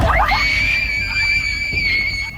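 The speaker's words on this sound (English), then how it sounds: "A sudden loud scream sends the girls running in terror." A sudden loud, shrill scream cuts in close and sustained, holding a piercing high pitch for about two seconds over background rumble.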